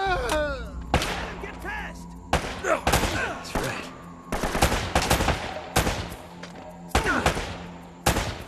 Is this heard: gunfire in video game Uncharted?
yes